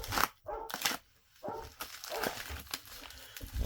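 A dog barks several times in short bursts, some yelps and whimpery notes mixed in, fairly close and moderately loud with brief pauses between.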